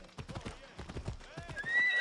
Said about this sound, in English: When we tell the horse to just auto-follow the path